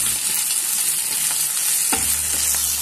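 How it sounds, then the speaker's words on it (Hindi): Minced meat keema fries in hot oil with a loud, dense, continuous sizzle, broken by one or two soft utensil scrapes. "ये कीमे को हमने अच्छी तरह भून लिया, बहुत अच्छे तरीके से हमें 5-6 मिनट भूने।"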